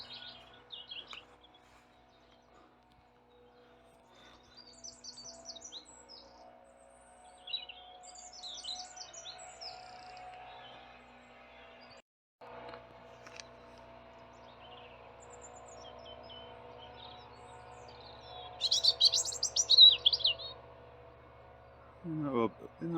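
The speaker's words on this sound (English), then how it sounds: "Isn't that robin lovely?" A robin sings outdoors on a spring countryside walk near South Wingfield: faint, scattered chirps and short twittering phrases, with a louder burst of song near the end, over quiet background.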